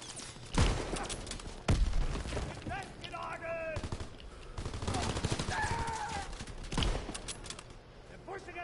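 Mortar rounds and gunfire in a WWII video game, loud thumping blasts and rattling shots spread through the clip, with game voices talking over the battle.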